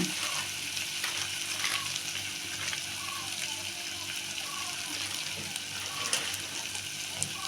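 A steady sizzle of menthya bath mixture frying in a pan, continuous and fairly loud, with faint stirring and clinking mixed in and no talk.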